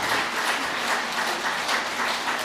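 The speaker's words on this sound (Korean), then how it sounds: "이럴 때 박수를 좀 쳐야 되는 거 아니야?" Steady audience applause during a Buddhist monk's Q&A dharma talk, a dense continuous wash of clapping that holds at an even level for a couple of seconds with no voices over it.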